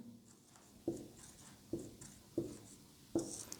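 Chalk or marker strokes on a board during a physics lecture on electric potential, four sharp taps and scratches at irregular intervals, close and fairly quiet, with no talking.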